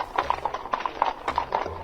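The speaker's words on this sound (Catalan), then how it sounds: "es va sentir el trot d'un cavall que s'acostava" A single horse trots in a steady clip-clop rhythm. The hooves are loud and close, with evenly spaced beats and nothing else heard.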